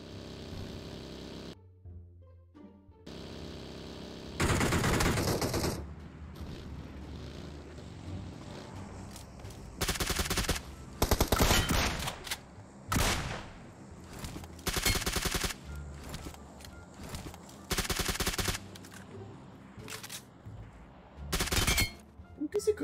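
Bursts of gunfire from a bot in a shooter video game, sharp loud volleys coming in separate clusters with quieter gaps between them, alongside lighter game ambience.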